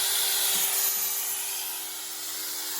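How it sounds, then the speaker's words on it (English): A power drill runs steadily with a high, buzzing whine over a faint low rumble, continuous and close, no talking. "The drill is running."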